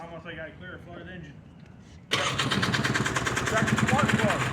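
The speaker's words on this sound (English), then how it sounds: "Almost like I clear a flooded engine." A flooded small engine cranks and then catches, jumping from quiet, uneven turning under talk into a loud, rapid, steady running rattle close by.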